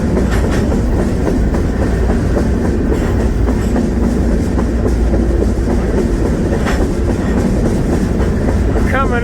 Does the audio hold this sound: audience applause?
no